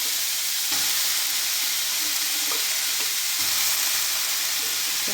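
Banana plant stem sizzles steadily in a frying pan, a continuous hissing fry with a few soft clicks of stirring, fairly close and uninterrupted by talk.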